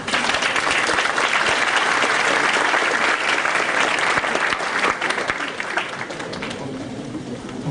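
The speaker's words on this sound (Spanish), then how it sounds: "Lo recibimos con un fuerte aplauso." Loud, sustained applause from the audience at a business congress, with dense clapping lasting throughout and tapering off slightly toward the end.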